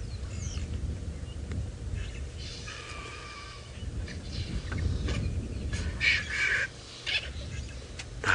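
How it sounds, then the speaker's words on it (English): Scavenging birds squawk and squabble over the last of a lion kill carcass on a sunrise safari drive, with scattered harsh calls and a burst of squealing cries rising toward the end over a low outdoor rumble. "as they start getting squabbling over the last of the carcass, you'll find lots of squawkings going to happen."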